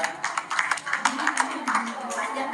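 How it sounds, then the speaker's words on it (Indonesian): Audience clapping at an anniversary gathering, a short burst of uneven, separate claps from a modest group, fairly close, with some voices mixed in. "Baik, tepuk tangan dulu semuanya."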